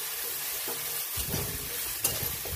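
Green chilli and garlic sautéing in hot oil for a fenugreek (methi) vegetable dish, giving a steady close sizzle with a few stirring scrapes of a spoon in the pan.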